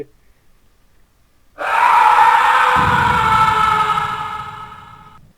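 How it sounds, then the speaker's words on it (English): A loud, sustained high scream bursts out after a quiet stretch, wavering as it holds and slowly fading, with a rough low rumble underneath. "They all heard the distant scream."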